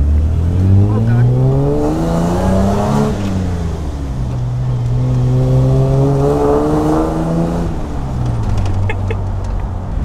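A Nissan GQ Patrol 4WD engine fitted with extractors revs repeatedly, pitch climbing and falling in long sweeps, loud and close with a throaty, rumbling tone.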